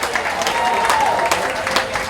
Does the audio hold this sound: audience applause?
yes